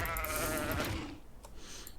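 A baby sheep in the ARK survival video game bleats in a drawn-out, wavering cry that fades away, followed by faint quieter game ambience, with no talk.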